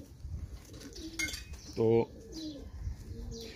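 A pigeon gives a short, soft coo partway through, near and fairly clear, with a faint clink and someone talking quietly around it.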